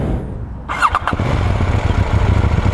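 A KTM 790 Duke motorcycle engine cranks with a brief starter whir, then catches and settles into a steady, close, rumbling idle.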